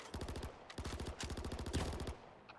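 Flares fired from the Nomad vehicle in a video game, rapid bursts of sharp popping shots in quick rhythmic volleys separated by short gaps, fairly faint overall.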